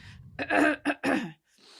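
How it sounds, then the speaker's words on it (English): A person clears their throat close by, a few raspy bursts followed by a brief quiet breath. "Let me just clear my throat."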